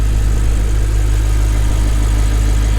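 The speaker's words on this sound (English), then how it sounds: "Still has a very nice, exotic, refined, unique V8 sound." A 2014 Audi R8 4.2 Quattro V8 engine idles steadily with a deep, constant low rumble and no revving, close and loud throughout.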